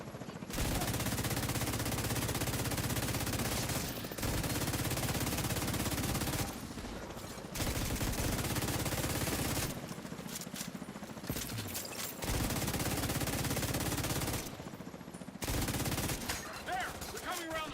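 Automated turret firing in the shooter The Division 2: long, rapid bursts of loud automatic gunfire separated by brief pauses, repeating across the stretch, with other gunfire mixed in.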